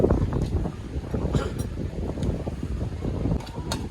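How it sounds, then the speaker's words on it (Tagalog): Steady sea wind rushes and buffets against the microphone, a continuous low rumble with gusty swells and no one speaking. "Sarap ng hangin dito."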